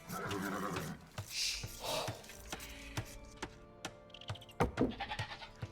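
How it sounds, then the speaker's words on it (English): Goats bleat in a strategy video game, several short animal cries spread over a few seconds and mixed with other game sound effects, with no talking. "don't you dare kill those goats"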